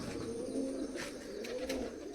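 Pigeons coo steadily in low, rolling calls that overlap and carry on without a break, fairly close and alone with no voices.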